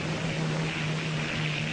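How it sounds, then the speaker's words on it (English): A propeller airplane known as the Flying Dutchman drones steadily and loudly, a continuous engine hum with a strong low tone and a broad airy roar, with no voices. "The Vliegende Hollander. That's my plane."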